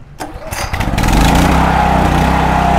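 An EGI3000M open-frame inverter generator being pull-started: a brief recoil pull and sputter, then the engine catches and settles into a loud, steady, high-pitched running drone.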